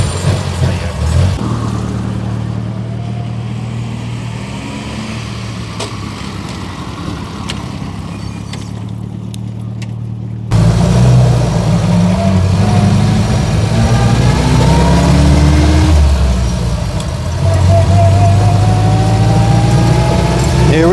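A 1924 Austin Seven engine, flooded and choked, turns over and catches with a low, uneven idle and rising revs, loud and close, with people talking over it.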